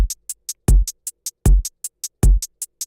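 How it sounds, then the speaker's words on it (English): A simple looping hip-hop drum pattern from a remake: three heavy kick hits spaced evenly, with quick ticking hi-hats in a steady rhythm between them. "The drums I put over this were pretty basic and repeating."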